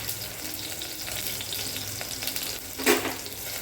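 Green chillies and garlic fry steadily in hot oil, a continuous close sizzle with one brief louder crackle near the end and no voices.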